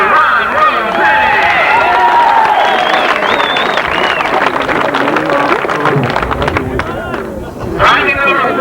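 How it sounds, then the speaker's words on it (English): An audience applauds a newly crowned R/C car racing champion at a 1988 race event, with steady clapping and crowd noise running beneath a loud announcer's voice. "A big round of applause for our newest champion, Mr. Ron Rosé."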